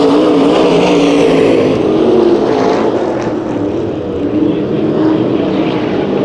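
Race cars, A modifieds, roaring around the Perris Auto Speedway half-mile dirt oval during heat races, a loud continuous engine roar that swells and fades as cars pass close by.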